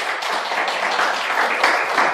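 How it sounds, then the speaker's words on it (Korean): A short burst of steady applause from a small group, dense and even clapping throughout. "박수 한번 쳐주시죠."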